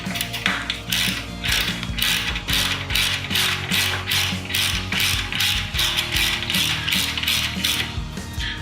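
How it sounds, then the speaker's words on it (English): A ratchet tightens the lever bolt on a Harley-Davidson V-Rod clutch or brake lever. Rapid, loud, close metallic clicking runs continuously in a steady back-and-forth rhythm. "Grab your ratchet"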